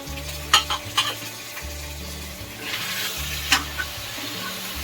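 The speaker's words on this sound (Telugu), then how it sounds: "ఇప్పుడు మనం దీంట్లోకి చికెన్ వేసుకుందాం" Chicken fries with ginger paste and turmeric in a pan, a steady sizzle broken by several sharp clinks of stirring, over a low background hum.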